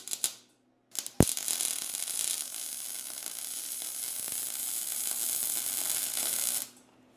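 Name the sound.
welding a bracket onto a go kart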